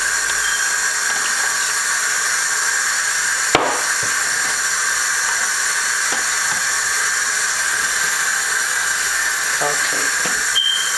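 Water poured into sofrito frying in extra virgin olive oil gives a steady, close hissing sizzle that runs the whole time, with a few soft knocks and clicks from the pan.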